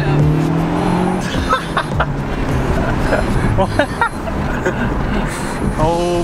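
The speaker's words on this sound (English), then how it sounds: "Do you hear that? I don't know if they can hear it on the camera. Yeah, you can hear the turbo." A 2018 Honda Civic Type R with a turbo engine accelerates, heard from inside the car with a loud engine roar that climbs in pitch toward the end, while people talk over it.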